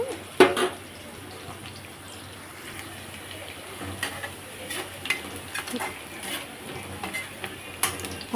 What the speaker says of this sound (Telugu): కళాయి పెట్టుకుని ఆయిల్ పోసి ఉల్లిపాయలు పచ్చిమిర్చి వేయిస్తున్నాను